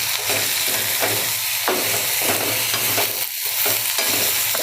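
A spoon turns turmeric and salt through hot oil in a pan, giving a close, rhythmic scraping of repeated strokes over a steady bubbling sizzle, with no talking.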